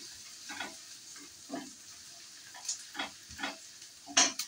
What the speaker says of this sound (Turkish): Çok güzel kavuruyorum soğanlarımı